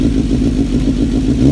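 A 2005 Suzuki GSX-R1000 K5 motorcycle engine runs loud and close with a steady, even idle rumble and a faint mechanical clatter, with no voices.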